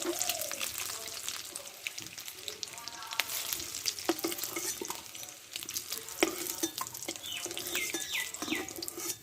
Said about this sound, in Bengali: দেখো ডিমটা চারিদিকটাই ভালো করে ভেজে নিচ্ছি একটু লালচে করে ভেজে নেবো